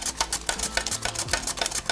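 Rapid rhythmic scraping of a cucumber being sliced into thin rounds on a kitchen slicer grater for a German cucumber salad, quick repeated strokes close up with no talking.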